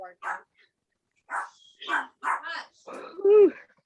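A pet dog barks in short yaps and whimpery bursts, close by, alternating with brief gaps and ending in a higher whine.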